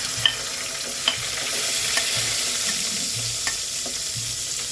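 Garlic sizzling steadily in hot oil in a pan, with a spoon scraping and stirring in short repeated strokes, close and alone.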